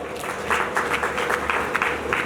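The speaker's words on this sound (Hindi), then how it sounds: "माता जी के लिए ताली बजाओ भाई" An audience at a Shrimad Bhagwat Katha religious discourse claps in a dense, uneven burst of hand claps that runs throughout at moderate loudness over a low room hum.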